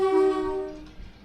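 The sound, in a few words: Class 450 train horn blast in Train Simulator video game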